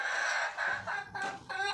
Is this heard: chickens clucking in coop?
yes